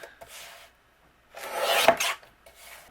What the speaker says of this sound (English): I'm going to take my paper trimmer, and I'm going to just trim these down into 8 instruction pieces